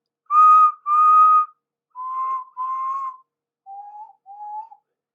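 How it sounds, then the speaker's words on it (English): Steam engine whistles blow in three pairs of short, steady blasts, each pair lower and softer than the last, clear and close in an otherwise quiet setting. "They whistled impatiently."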